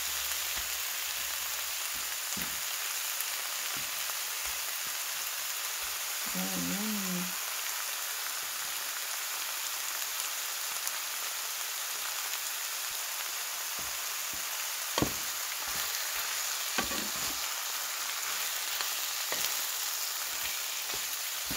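Chicken pieces fry in a pan for tinola, giving a steady, rain-like sizzle over a long stretch, with a few faint clicks and taps of stirring along the way.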